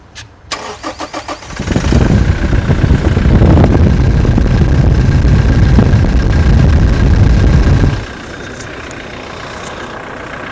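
A Toyota Fortuner 2.4 V engine cranks with quick rhythmic turns, roars to life and runs loudly, then settles into a quieter idle.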